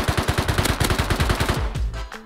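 Rapid rifle fire at an enemy in a survival video game, a fast burst of sharp evenly spaced shots that slows toward the end, loud and close with no talking.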